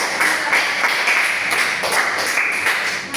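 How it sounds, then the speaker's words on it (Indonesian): Classroom applause for a student group, a steady bright patter of many hands clapping together for about three seconds, fairly close and loud. "berikan aplaus dulu kelompok 1"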